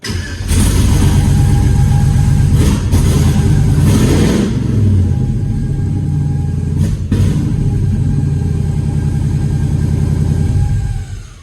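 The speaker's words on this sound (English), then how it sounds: "What is that squeal?" An LS-swapped car engine fires up and runs loud and close, revving early then settling into a rough, uneven idle with brief bursts, a thin squeal faintly riding over the rumble.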